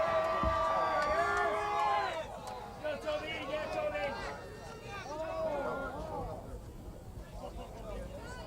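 Crowd at the 1999 Canadian ultimate frisbee nationals open final cheers and whoops steadily throughout, a broad roar of voices with shouts rising above it, with commentary talk over the top.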